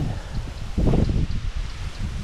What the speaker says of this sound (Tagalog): Malakas yung hangin yan ah.